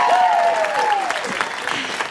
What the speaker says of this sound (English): So thank you for the applause.